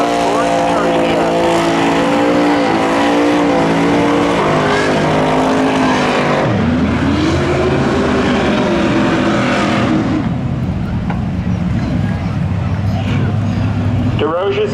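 A 1984 Chevy Camaro and a 1987 Pontiac Firebird rumble at the line at Seekonk Speedway spectator drags, with loud continuous engine noise and a revving swell midway, all under a talking voice.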